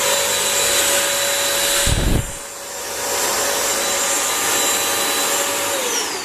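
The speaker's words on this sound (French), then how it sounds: "il est important de repasser en mode simplement aspirateur" A Bissell Crosswave 17132 wet-dry vacuum cleaner runs with a steady, loud motor whine, broken by a short thumping dip near the two-second mark before the drone resumes evenly.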